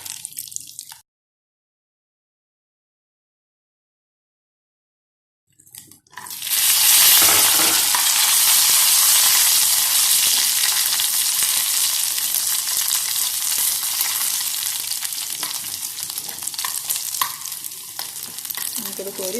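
After a brief sound and a few seconds of silence, cashew nuts fry in ghee in a pan with a loud, steady hiss and sizzle close by, running on continuously with slight crackling variations.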